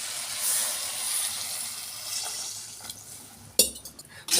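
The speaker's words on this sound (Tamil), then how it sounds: "இப்போ நம்ம தண்ணி ஊற்றிக்கலாம்." Water is poured into a pot of cabbage sambar seasoned with sambar powder, a light, bright splashing trickle that then gives way to a few sharp metallic clinks of the pot and utensils near the end.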